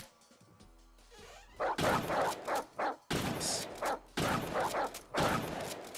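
Dogs bark in a boomer shooter video game, coming in loud, harsh, repeated bursts with thumps and crashes between them, and a brief spoken word.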